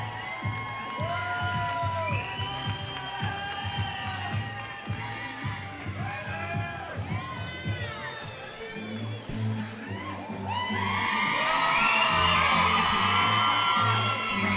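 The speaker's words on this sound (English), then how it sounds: "Acknowledgement from the crowd" A crowd at a combat fight between two female fighters cheers and whoops, rising louder toward the end, with a voice speaking over the noise.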